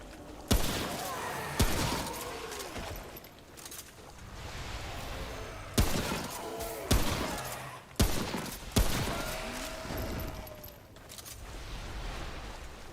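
Gunfire in the video game Remnant, several loud sharp shots a few seconds apart, each followed by ringing echoes and clattering tails over a low game ambience.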